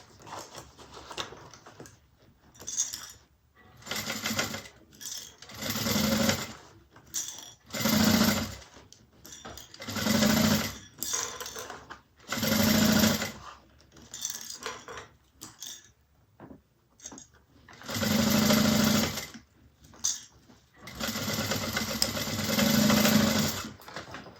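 A sewing machine stitches a bag seam in repeated close bursts of rapid mechanical whirring, each run lasting a second or two, separated by short pauses and light handling noises.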